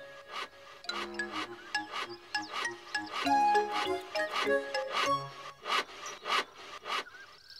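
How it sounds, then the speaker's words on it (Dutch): In a children's cartoon, a bear pushes a hand saw through wooden logs to cut planks, giving a run of rhythmic rasping strokes with tonal, musical accents between them. "Hij zaagt houtblokken in planken."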